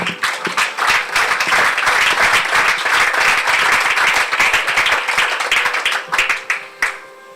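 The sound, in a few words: church congregation applause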